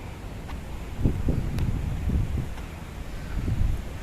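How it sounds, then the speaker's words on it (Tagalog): Strong typhoon wind gusts in Hong Kong, a low rumbling buffet on the microphone with louder surges at intervals and a constant rushing background, no speech. "Galit ang hangin."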